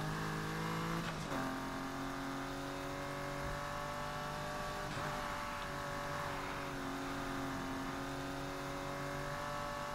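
Engine of an in-game car in Need for Speed Heat, the BMW M2, humming steadily at a high, sustained pitch with slight shifts in revs, loud and continuous for the whole stretch with no talk over it.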